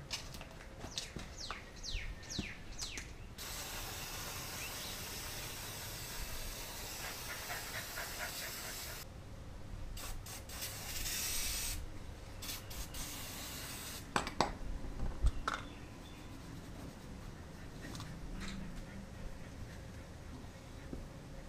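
Bursts of aerosol degreaser hiss onto brake parts during a four-piston brake upgrade, with several long, steady sprays broken by pauses, along with some scrubbing and small handling noises close by.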